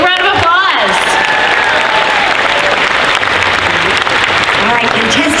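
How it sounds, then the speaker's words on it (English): Loud, sustained applause and cheering from a crowd at a fan convention costume contest, continuous throughout, with voices mixed in. "Big round of applause."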